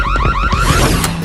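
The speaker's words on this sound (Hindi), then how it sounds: "अरे नहीं, अलार्म!" A car alarm going off loudly and close by, with a rapid repeating warbling siren pattern that keeps up without a break.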